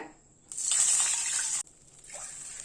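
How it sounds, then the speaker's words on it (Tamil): Water poured into hot ghee in a pan erupts in a loud hissing sizzle lasting about a second, then cuts off sharply before a softer second sizzle follows. "இப்ப அதே நெய்யிலேயே 2 கப்பு தண்ணி விட்டுக்கலாங்க."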